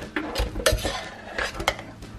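A spoon clatters and scrapes against the pot of a slow cooker while stirring flour-dusted beef for a beef and tomato stew, a run of close, sharp metallic knocks and scrapes with no talk.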